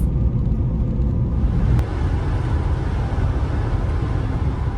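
A car drives along a highway through a storm, giving a steady, loud, low road rumble and broadband roar that continues without break from start to end.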